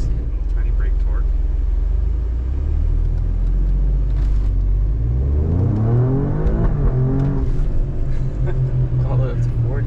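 An Alfa Romeo Stelvio QV on a road goes from a low rumbling idle to a rising engine note as it accelerates, heard loud from the cabin with steady road noise beneath.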